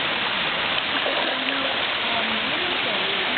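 Fresh water pours steadily from a South African waterfall, a constant close hiss and rush of falling water with faint voices beneath it; no distinct dunking splash stands out.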